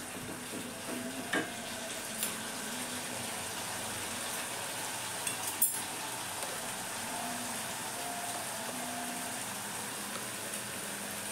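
Masala for paneer sautéing in a pan, a low, steady sizzle with a few soft scrapes and taps of stirring, fairly quiet with no talking.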